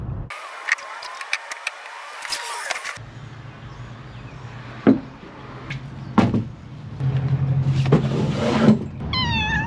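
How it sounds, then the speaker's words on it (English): A cat meows several times, short cries spread across the stretch near the microphone, over a low outdoor hum with a few thumps and door-like knocks. "This is Martha the cat"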